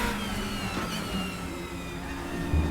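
A DTM 2021 race car engine in the RaceRoom racing game drones steadily at high revs, a continuous buzzing whine with a slight gear-shift change near the end and no talk.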